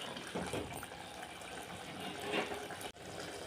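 Water is poured into a cooking pan of onions for an egg curry, a soft continuous trickle and gush that swells briefly midway and cuts off sharply just before resuming.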